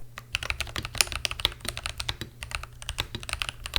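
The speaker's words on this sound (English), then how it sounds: "this is a Keychron V1 with Akko CS Lavender purple switches, and the keycaps are by DIY Keycap" Typing on a Keychron V1 mechanical keyboard with Akko CS Lavender switches and DIY Keycap keycaps, a quick uneven stream of close, crisp keystroke clicks with no voices.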